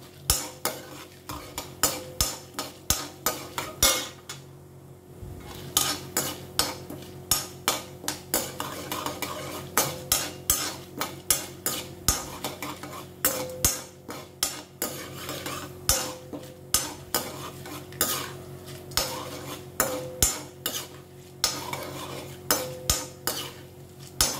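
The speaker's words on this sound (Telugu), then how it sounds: "చూసారు కదా, ఇలా పోపు వేయించుకోవాలి." A spoon repeatedly stirs and scrapes a pan as chana dal, urad dal and mustard seeds fry in oil for tempering, rhythmic metallic clinks over a faint sizzle, with no talking.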